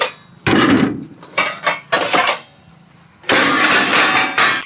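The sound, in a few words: washing pots and dishes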